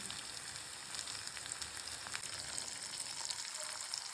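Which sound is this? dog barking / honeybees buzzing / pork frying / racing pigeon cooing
pork frying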